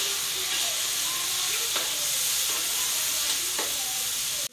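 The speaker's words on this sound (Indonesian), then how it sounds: "Saya tengah goreng sotongnya" Squid fries in a pan with soy sauce and honey, a loud, continuous sizzle and hiss with faint stirring clatters, heard close up without talk.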